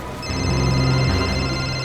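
A phone rings with a steady electronic tone, continuous and fairly loud, nobody answering.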